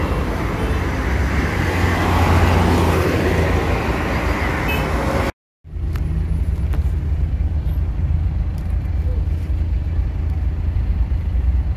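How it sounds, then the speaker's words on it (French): Steady roadway traffic on a highway in Abidjan, a continuous broadband rumble of passing cars and buses with a brief dropout midway, then the same dense traffic wash continuing without speech. "sinon, nous sommes sur l'autoroute."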